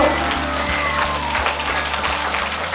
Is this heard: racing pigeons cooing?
no